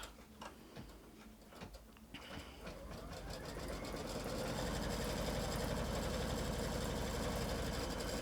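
An embroidery machine stitches a quilt block in the hoop, starting with scattered ticks and clicks, then settling into a steady, rapid mechanical whirr that grows louder and continues to the end.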